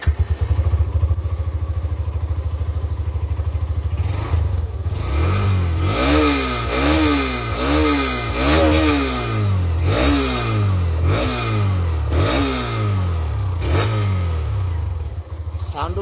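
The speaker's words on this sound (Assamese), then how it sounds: "আপোনালোকে এতিয়া এক্সজছৰ চাউণ্ডটো শুনক" A Hero Xtreme 125-R 125 cc motorcycle revs its exhaust repeatedly, the engine pitch climbing and falling in a steady series of close, loud throttle blips over a constant idle.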